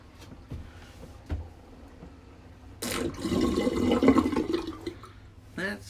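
A toilet flushes nearby with a loud rushing surge of water that swells and then tapers off, after a few quieter clicks and handling sounds, with someone talking just before.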